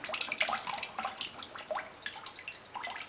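Water pours and trickles off a handmade paper mould, a steady splashing rush with scattered drips running throughout, close and fairly soft.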